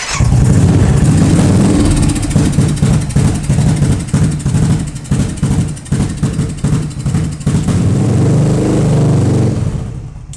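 Modified Royal Enfield with a three-tyre Ducati-style build and manufacturer silencer, its engine running loud and close with a deep, throbbing beat that pulses unevenly before settling into a steady idle; no voices.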